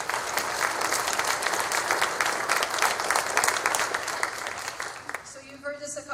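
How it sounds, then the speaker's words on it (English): A crowd at a school attendance program launch gives a big round of applause, dense sustained clapping that fades near the end as a voice starts speaking. "Big round of applause for everybody coming out today."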